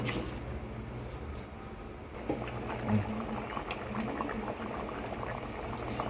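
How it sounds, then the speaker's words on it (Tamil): A jackfruit seed curry with coconut bubbles in a pot, giving a steady close simmering with continuous small pops and gurgles throughout and no talking. "குழம்பு இன்னும் கொஞ்சம் நேரம் கொதியட்டும்."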